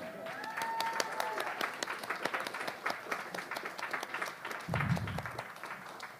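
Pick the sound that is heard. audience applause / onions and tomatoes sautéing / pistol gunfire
audience applause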